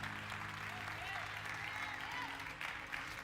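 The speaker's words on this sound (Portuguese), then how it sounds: "Você pode dar um aplauso a Ele em nome de Jesus?" A church congregation claps together, faint and distant, with some voices mixed in under the steady wash of applause.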